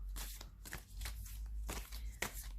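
Tarot cards being shuffled by hand, a few quick papery riffles and slides in close succession, near and fairly soft with no talk.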